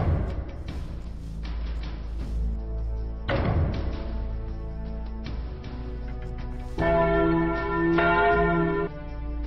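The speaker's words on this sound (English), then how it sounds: "ring the town bell" Town bell in the Age of Empires 2 video game tolling repeatedly, each loud resonant strike ringing out and overlapping the next, the pealing growing fuller and brighter toward the end before cutting off, with no voices.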